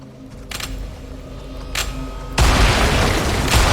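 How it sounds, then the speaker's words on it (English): Deep booming explosions from banshees bombarding a dungeon core in War for the Overworld, a rumbling barrage with sharp bursts and a heavy blast that grows louder near the end. "There are banshees bombarding your dungeon core."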